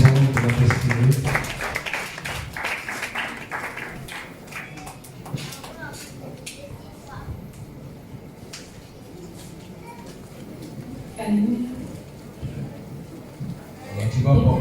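Congregation at a church service applauding and cheering, loud crowd clapping and shouts at the start that settle into scattered claps, then swell again near the end, with a voice speaking over parts of it.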